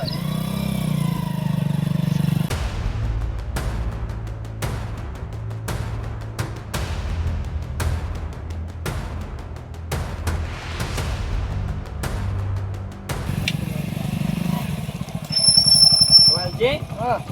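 A motorcycle low on petrol is kicked several times in a rhythmic series of sharp strokes, then its engine catches and runs with a rough idle as people talk over it.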